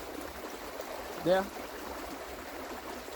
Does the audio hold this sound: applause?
no